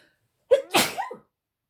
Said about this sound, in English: If I sneeze, I apologize.